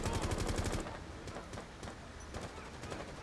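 Rapid bursts of automatic gunfire in Rainbow Six Siege, loud and dense at first, then thinner scattered shots continuing in the background.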